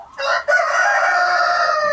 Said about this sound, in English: So we do house the chickens on the other side of this wall,